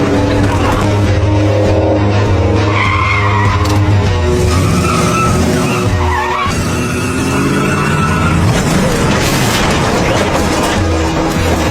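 In a kung fu action film, a car skids loudly on a road at night just before it plunges from a height toward water, with the tyre scrub layered over engine roar and dramatic background sound.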